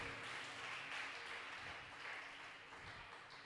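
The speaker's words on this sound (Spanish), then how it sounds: "Denle un fuerte aplauso al Señor" A church congregation claps for the Lord, a faint, steady wash of distant clapping held evenly for a few seconds with no voices on top.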